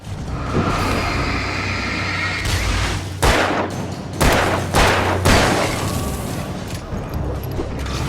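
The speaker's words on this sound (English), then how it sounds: "I'm yapping about how cool the flare gun is here, but it still has like a great effect. Like it's more of like a snappy explosion, poppy action" Flare gun fire in the video game Alan Wake Remastered, a snappy, poppy explosive burst heard as several loud booming thumps over a dense, continuous rumbling game soundscape, with no talk.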